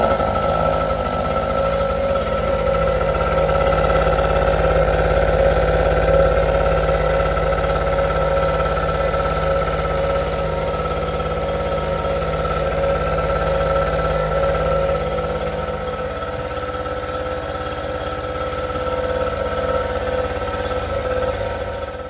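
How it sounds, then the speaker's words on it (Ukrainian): A Honda inverter generator engine runs with a steady, loud mechanical drone and buzzing hum, easing slightly lower in the second half; no talking is heard. "Ще раз спробуємо завести положення он, он, це теж он, зараз."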